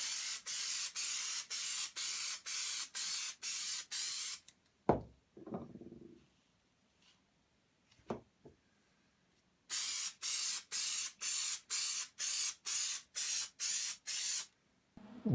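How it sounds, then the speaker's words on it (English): Spray adhesive is applied to a spring upholstery chair in rapid rhythmic bursts of hiss, close and steady, with a quiet gap holding a few knocks and handling noises before the spraying resumes. "what I'm going to do is spray some adhesive on here and adhere some cotton batting"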